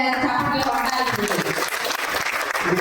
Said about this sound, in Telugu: మనం ఒకసారి గట్టిగా వేమారెడ్డి గారి చప్పట్లు కొట్టాలి